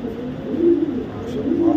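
A racing pigeon hen coos up close, two rolling throaty phrases rising and falling over a soft background hum.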